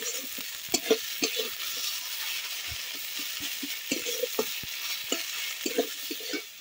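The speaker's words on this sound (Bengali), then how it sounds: "এখন আমি সবগুলোকে ভালো করে ভেজে নেব।" Chopped green chillies and other ingredients fry in a pan for a jackfruit and prawn dish, a soft continuous sizzle beneath frequent close knocks and scrapes of a spoon stirring, moderately quiet, no voices.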